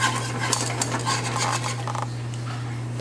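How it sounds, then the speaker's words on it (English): A boiling pot stirred by hand in a home kitchen, with utensils scraping and clinking against the metal pot over a steady low hum and faint bubbling, close and fairly loud. "Oh, it's boiling."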